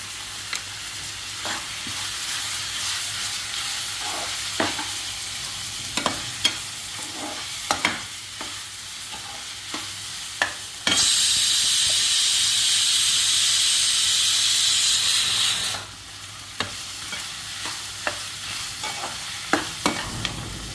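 Turmeric and ginger-garlic paste fry in a pan for a fenugreek-leaf and chana dal curry while being stirred. A steady sizzle runs under scattered spatula scrapes and taps, with a loud, sustained hiss swelling for several seconds midway.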